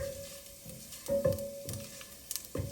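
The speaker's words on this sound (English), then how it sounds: "we're going to saute for a few minutes until the mustard cracks" Mustard seeds crackle and sizzle in hot oil while green beans poriyal is being made, with sharp scattered pops over a steady low fizz, close and moderately loud, with no voices.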